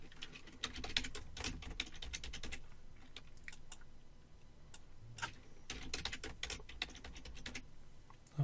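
Fingers typing a password on a computer keyboard, two bursts of quick close key clicks separated by a short pause, quiet and alone.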